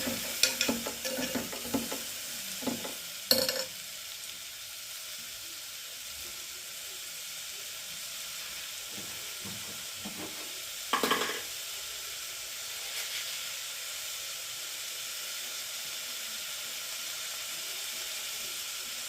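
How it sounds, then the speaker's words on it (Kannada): Carrots and beans fry in a tempering for pulao and are stirred, giving a soft continuous sizzle with scattered scraping and clinking hits, louder at first, then settling into a faint steady hiss. "ಚೆನ್ನಾಗಿ ಕೈ ಆಡಬೇಕು."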